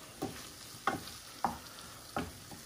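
Beetroot greens cook in butter in a pan, stirred in four separate brief strokes, each bringing a soft scrape and sizzle up close against a quiet background.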